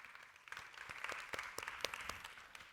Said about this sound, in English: So like a big round of applause to them.